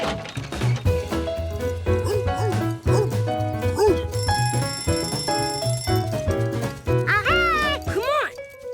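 Cartoon dogs bark a few times near the end, quick high yips over a bouncy musical score in a children's animated show, with a brief bell-like ringing tone partway through.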